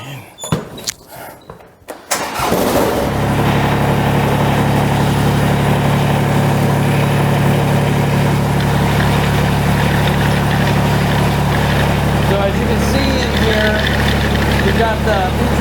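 King Kutter tiller with its slip clutch being made to slip, the engine running at a loud, steady roar after a few seconds of a voice and clunks at the start.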